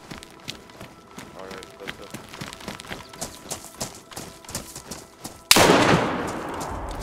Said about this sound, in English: Nice shot! What a shot.